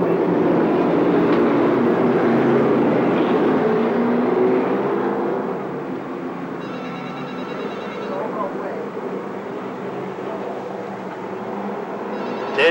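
Race cars on the New Paris Speedway oval rumble through turn 4 on a pace lap before the green flag, a loud, sustained engine roar that eases slightly partway through while a voice talks over it.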